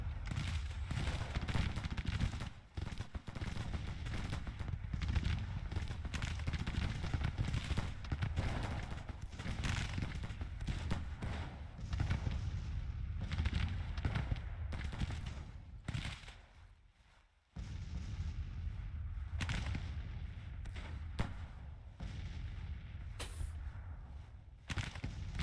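Artillery in the Grand Tactician strategy game fires in a dense, steady stream of booms and crackling volleys mixed with distant battle rumble, dropping briefly to near silence before resuming.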